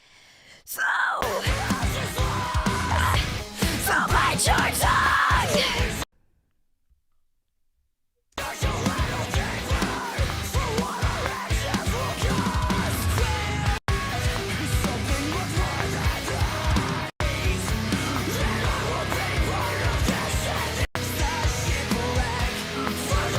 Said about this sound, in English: Kind of sounds like he's like half screaming, half singing this last line